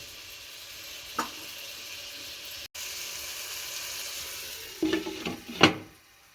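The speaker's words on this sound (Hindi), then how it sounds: "तो इसको हम 2 से 3 मिनट दम पे रख देंगे।" Spiced chickpeas cook on low heat in a pan, a soft, steady sizzle with a few brief clinks and stirring scrapes near the end.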